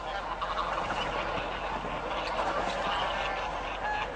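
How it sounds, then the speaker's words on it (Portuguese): Flock of migratory geese honking continuously on water, a dense chorus of overlapping calls at moderate distance with steady wash of background noise. "Estas aves migratórias viajaram por milhares de quilômetros para escapar do frio."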